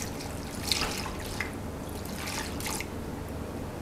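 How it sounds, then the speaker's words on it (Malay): Water pours and trickles into a cooking pot holding ginger, garlic and tamarind for a stir-fried crab dish, with soft splashes and drips close by. "Kita masukkan air."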